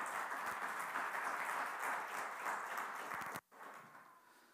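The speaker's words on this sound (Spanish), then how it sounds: "El aplauso al Señor con gozo." A church congregation claps and cheers steadily for several seconds in a reverberant hall, then the applause cuts off abruptly and a quieter tail follows.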